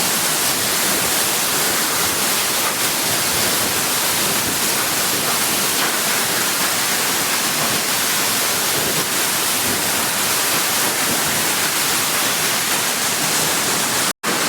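Achankallu waterfall sends rushing water down in a steady, loud, unbroken roar that fills the whole scene up close, with one brief cut near the end.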